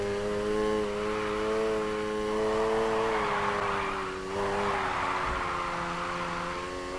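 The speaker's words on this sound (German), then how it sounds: "Gib kurz Vollgas und lenk ein. Und geh dann wieder aufs Gas." A car in Need for Speed Heat revs at full throttle and drifts, its engine note sustained and loud, pitch dipping and rising as the throttle is held and the tires slide, with no talking.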